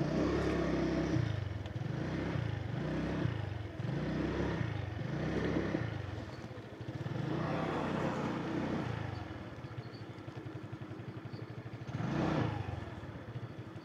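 A motorcycle runs close by with a pulsing, rhythmic engine note in the first half, then a rougher, steadier idle-like rumble and a brief rev near the end.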